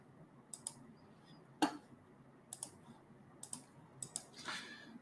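Scattered clicks of typing on a computer keyboard, quiet and close, with irregular taps and short bursts of several keys.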